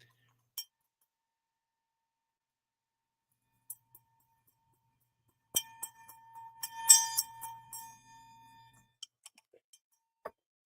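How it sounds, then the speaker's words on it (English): An antique bell handled during a live stream, giving a few faint isolated clinks, then a cluster of brighter metallic rings and jingles, followed by scattered small taps, quiet and close with no talk. "So this is an antique bell."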